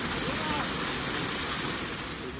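A small waterfall at Hogenakkal Falls, a dense, continuous roar of falling water, close and loud, with wind buffeting the microphone.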